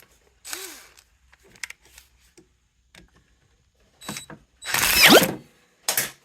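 An impact wrench tightens bolts on a Honda CH80 scooter during a carburetor rebuild: scattered small clicks and taps, then a few short, loud bursts of ratcheting hammering near the end.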